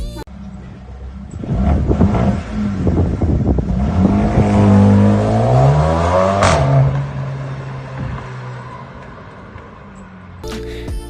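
A modified car exhaust revs up and climbs in pitch, then settles back to a lower drone, loud and close with some wind noise on the microphone.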